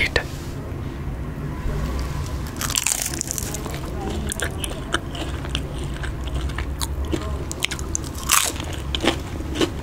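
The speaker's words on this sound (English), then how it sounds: "eat some potato chips, potato fries." Crunchy potato fries are bitten and chewed close up, with crisp crunches and crackles over steady chewing across about ten seconds, louder bites standing out.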